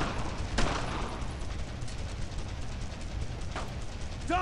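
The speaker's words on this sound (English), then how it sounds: "Don't stop firing!" Dense, continuous gunfire from the World War II shooter Brothers In Arms: Road to Hill 30, with overlapping rapid shots and bursts sustained throughout at close range and no pauses.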